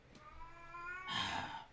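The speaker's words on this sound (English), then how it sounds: "ignore the dying cat in the background" Female cat in heat yowling in the background of a room, one drawn-out, wavering caterwaul that swells louder toward the end, faint and somewhat distant.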